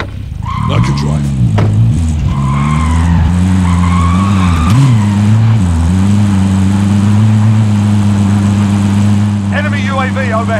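A four-wheeler is driven in Call of Duty Modern Warfare: a loud, continuous engine drone whose pitch rises and falls, with tire squeals and skids. Game voices speak briefly over it.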